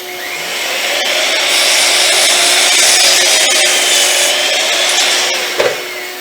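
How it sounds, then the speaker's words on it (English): A miter saw slices through a wooden sawhorse leg in one long, steady cut, a loud sustained whine and rasp that holds for several seconds before a brief clunk near the end. "nip a bit off with the miter saw if you so need"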